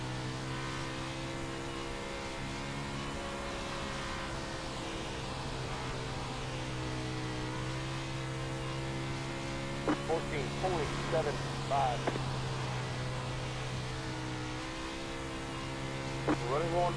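A 410 winged sprint car engine drones at sustained high revs on the dirt oval at Bristol in iRacing, steady and loud through the lap. A few quick rev spikes and chirps near the end sit under a voice talking.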